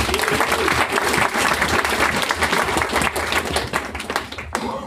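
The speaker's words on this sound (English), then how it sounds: "So huge round of applause for those guys" Audience applause at an EdTech Austin education-technology meetup anniversary event, a dense, steady burst of many hands clapping indoors that holds loud for several seconds and thins slightly near the end.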